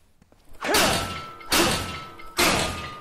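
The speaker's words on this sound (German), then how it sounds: "Okay, jetzt mit dem Brecheisen." In the video game Silent Hill Downpour, a crowbar strikes three times in steady succession to break through an obstacle, each hit a heavy crashing thud with a rattling shatter tail, loud and close.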